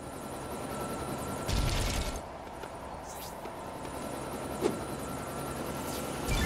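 A helicopter flies in LEGO City Undercover, its rotor chopping and engine whining in a steady drone, with a sudden heavier burst of noise partway through and a brief sharp knock later.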